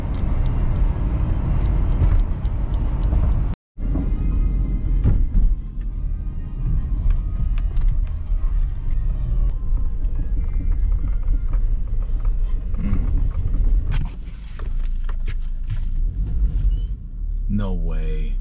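A car drives through deep snow while scouting with a dog, the cabin full of loud low engine and road rumble, with people talking over it throughout.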